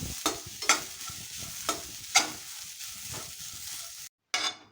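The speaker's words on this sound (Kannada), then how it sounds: "ಈ ಬಿಸಿಯಲ್ಲೇ ಒಂಚೂರು ಮುಕ್ಕೊಳ್ತೀನಿ ಕಾಯಿಯನ್ನು" Grated coconut is roasted in a hot pan with the stove switched off, giving a faint, soft sizzle punctuated by a series of crisp, close spoon scrapes and stirs, then a brief break before one last stir.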